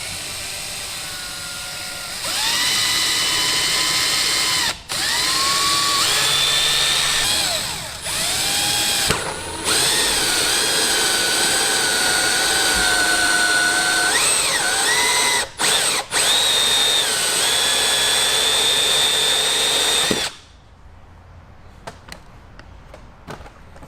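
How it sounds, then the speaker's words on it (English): A power drill with a 21mm hole saw cuts through the rear bumper of a 2008 Toyota Corolla for reverse sensors, a close whining buzz in repeated bursts with brief pauses and pitch dips, then stopping to near silence. "The drill piece hole saw attachment is the same size as the back of the sensors"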